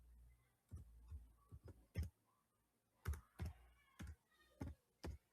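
Typing on a computer keyboard, a close, quiet series of irregular key clicks and taps with short pauses between bursts, no voice.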